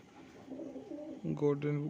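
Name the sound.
Golden Fulshira Not pigeon cooing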